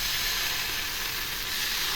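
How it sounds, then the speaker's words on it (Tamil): Coconut dosa batter sizzling on a hot pan without oil, a loud, even, continuous hiss that stays steady throughout, close by and with no talk. "இப்போ அடுத்து தோசை ஊற்ற ஆரம்பிச்சிடலாம்."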